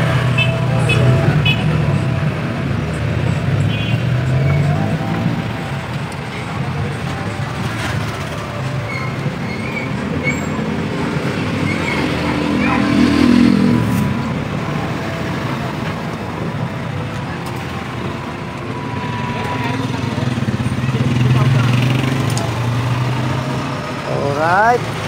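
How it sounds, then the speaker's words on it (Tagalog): An electric trike's motor runs with a steady whirring drone after a bearing replacement, holding at close range for the whole stretch with slight swells and a faint squeal near the end. "Buo na yung pinaka parang makina niya."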